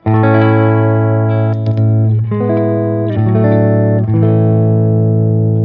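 Electric guitar on the clean channel of a Boss Katana 50 amp with no effects, sustained chords ringing out loud and close, changing every second or so with brief strum transients.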